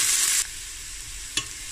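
Onions and garlic fry in a pot with a bright, hissing sizzle that drops quickly to a softer steady crackle, broken by a single sharp tap, with no talking.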